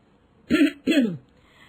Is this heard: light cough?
yes